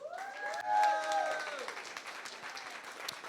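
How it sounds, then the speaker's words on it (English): Audience applause at a New York Fashion Week fashion show, a steady wash of clapping that swells early and then holds evenly, with a few voices and sung or called tones riding over the crowd. "Give yourselves a round of applause."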